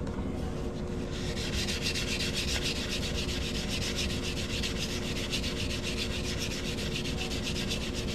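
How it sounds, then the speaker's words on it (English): Abrasive steadily sands the cut and reeded edges of a quarter coin ring, making a loud, close, unbroken grinding rush with a faint rapid pulsing and no voices. "I'm going to go ahead and sand up this cut edge and this reeded edge and get that shiny real quick"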